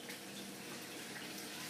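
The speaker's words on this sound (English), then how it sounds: "There's the pump going." A small pump in a home brewery setup moves water through a hose, giving a steady, quiet, even rush of flowing liquid with no talk over it.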